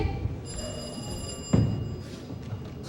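A telephone rings faintly in a live stage comedy setting, a thin high-pitched continuous trill with a dull thump partway through and room noise underneath.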